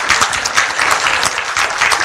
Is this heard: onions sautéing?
no